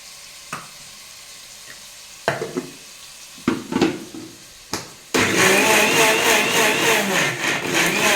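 A few knocks and clatters, then a blender roars to life and grinds cashews and coconut loudly and steadily.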